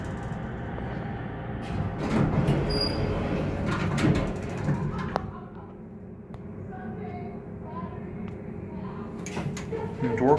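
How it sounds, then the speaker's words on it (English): A US hotel elevator door sliding shut at the press of a close button, with low mechanical rumble and a few clicks up close, while people talk nearby. "The door close works when you push the button."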